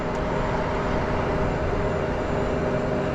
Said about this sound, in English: Oh, the train going by.